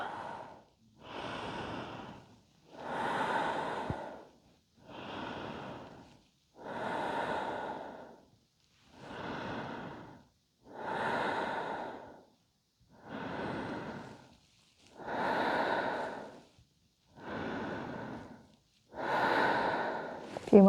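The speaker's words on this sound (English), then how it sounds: "Keep breathing." Slow, deep yoga breathing, about ten long airy breaths in an even rhythm, close and soft, with short quiet pauses between them.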